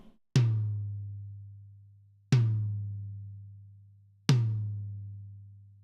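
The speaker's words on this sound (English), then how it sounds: "Here's the sound of the drum before any of my processing." Unprocessed tom drum from a metal-style kit struck three times, slowly and evenly spaced, each hit a sharp attack followed by a long resonant low boom that rings out loud and clear.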